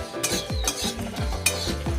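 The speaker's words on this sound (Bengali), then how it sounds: "তারপর মা একটু নাড়াচাড়া করে নিল।" Whole coriander seeds and dried red chilies are stirred in a hot pan with oil, a spoon scraping and clinking against the metal in repeated strokes over a steady, close sizzle of frying.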